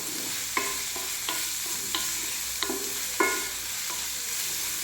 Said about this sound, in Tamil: வெங்காயம் நல்லா ஃப்ரை பண்ணிக்கோங்க